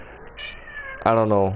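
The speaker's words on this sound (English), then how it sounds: "Sorry about my cat in the background, by the way." A pet cat meows loudly and close in the background, a drawn-out rising meow, while a person speaks briefly just before it.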